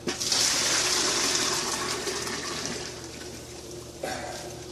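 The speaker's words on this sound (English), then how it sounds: "Okay, in goes the water." Water gushes and splashes as it pours into a pot while canning beef, loud at first and then thinning out, followed by a short knock near the end.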